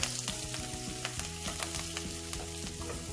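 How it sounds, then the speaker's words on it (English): Chilies, curry leaves, chana dal and urad dal frying in hot oil for dosa masala, a dense crackling sizzle with rapid pops and spits, close and continuous, with a few stirring scrapes and no voices. "Chilies, curry leaves, the channa dal, and the urad dal. Give it a stir."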